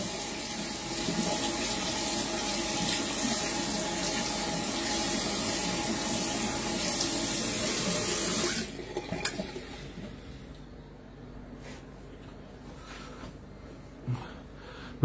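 Hot water runs steadily from a tap for about eight seconds, a close continuous rush, then cuts off, leaving a quiet room with a few small drips and knocks.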